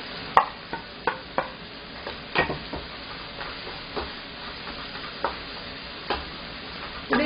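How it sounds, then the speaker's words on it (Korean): Onion and zucchini stir-frying in a pan for Korean jjajang sauce, a constant sizzle punctuated by the scrape and clack of a spatula, roughly one stroke a second, close and alone. "자, 양파 투명해지면 호박 넣어줍니다."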